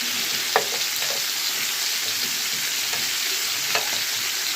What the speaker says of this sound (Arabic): هنعمله على الجريل على طول شويه زيت صغيرين